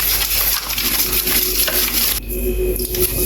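Masala being mixed with cooking oil in a pot for steamed chicken, with loud close scraping and clinking of a spoon against metal that briefly cuts out near the end, no speech.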